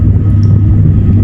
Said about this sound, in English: It sounds like airplane, right?